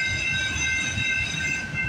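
A CP freight train made up of auto rack cars rolls past at night at a grade crossing on the Galt Subdivision, giving a steady, loud rumble with sustained high metallic wheel tones, close by and continuous, with no voices.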